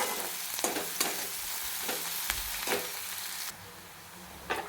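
Onion frying with a pinch of salt in a pan for a spicy village-style hadga flower bhaji, an even sizzle with several soft spatula stirs and scrapes, quiet and close, no speech.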